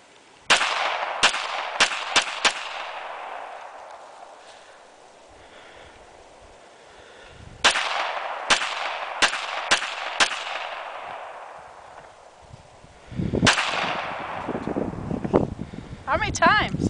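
An FNP-45 pistol fired repeatedly: three close, loud strings of several sharp shots each, separated by quieter pauses, with people talking between the volleys.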